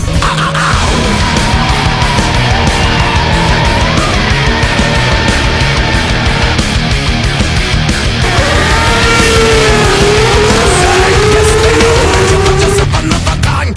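Race cars lapping the circuit during a round of the Georgian circuit racing championship at Rustavi International Motorpark, engines droning loudly and continuously with rising and falling pitch as cars pass, no talk over it.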